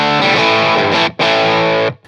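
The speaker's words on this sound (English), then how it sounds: "So I used the tube driver 3-knob version." An electric guitar driven through a three-knob Tube Driver overdrive on a Fractal FX8, two loud sustained distorted chords separated by a brief gap, close and alone.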